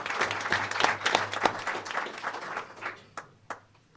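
Audience at a school board of education meeting applauding, a lively burst of clapping that thins out over a few seconds into scattered last claps.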